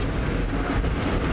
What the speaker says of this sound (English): And now here we have a down mountain train coming.